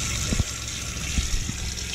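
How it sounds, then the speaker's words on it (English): Steady rush of water from a tap inside a 2020 Coachmen Beyond RV as bleach sanitizer is flushed through the lines, a continuous hiss with a few soft knocks underneath. "Now we'll run this water until I can smell the bleach."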